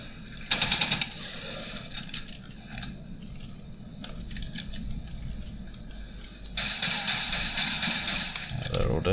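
Pistol fire against enemies in the sci-fi shooter game Alien Breed: Impact, with two loud bursts of rapid crackling shots near the start and end and scattered lighter shots and game noise between.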